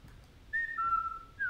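A player character whistles in the co-op shooter Sniper Elite 5 on PC, giving two clear sustained tones with a slight downward step and then a third starting, faint and alone against quiet game ambience.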